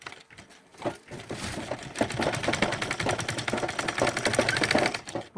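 A sewing machine stitches down fabric for a Senegalese zarah cap, its rapid, even mechanical chatter starting after a brief pause and running steadily and loud to the end.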